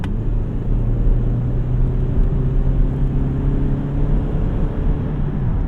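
A 2001 Toyota Camry LE with a 4-speed automatic held in second gear drives along back roads, giving a steady loud engine drone and road rumble from inside the car with no talk.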